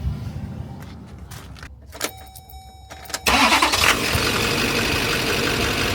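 Duramax 6.6 diesel cranks and fires after a few sharp clicks and rattles, then settles into a loud, steady close-up idle that continues unbroken.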